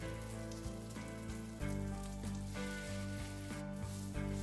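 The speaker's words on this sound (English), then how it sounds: "Fry the remaining slices." Egg-soaked bread slices frying in oil for sardine fried bread, a soft steady sizzle with light crackling pops close by, getting slightly louder midway, with no talk.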